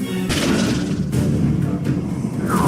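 A Stupefy spell is cast in Hogwarts Legacy, heard as a loud booming blast followed by further thumping impacts in a dense burst of battle noise.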